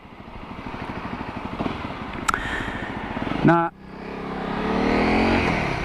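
A 2020 Honda Africa Twin Adventure Sports motorcycle engine drones steadily, then a quick shifter with auto blipper snaps through a gear change and the revs climb again. Someone speaks briefly over the engine.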